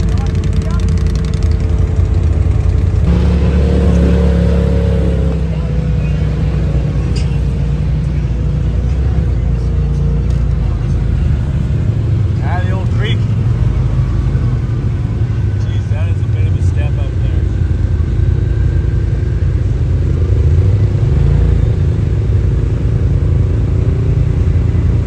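A 4x4 off-road vehicle engine rumbles and revs loudly through a night ride, a steady low drone that swells at moments, with people talking over it.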